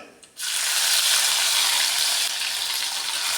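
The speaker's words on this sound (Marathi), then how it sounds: "आलं लसूण मिरची अशी व्यवस्थित भाजून घेतलेली आहे" Ground green chilli, ginger and garlic hit a hot cumin-mustard and curry-leaf tempering for potato curry, bursting into a loud, continuous close sizzle that holds steady after a brief quiet start.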